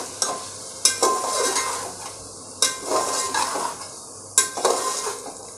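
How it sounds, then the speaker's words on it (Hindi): Potatoes, mutton and tomatoes fry in a pot for mutton yakhni pulao, a soft sizzle running underneath while a metal spoon scrapes and clanks against the pot in several distinct bursts of stirring, up close, with no talk. "तो हम 2 मिनट आलू और मटन को भी भून लेते हैं साथ में"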